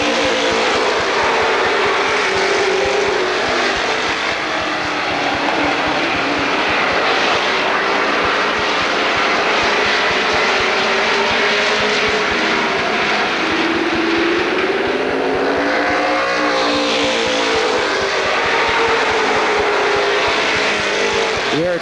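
NASCAR weekly series stock cars race at Lorain County Speedway, a loud, continuous roar of engines, pitch rising and falling as the pack sweeps past.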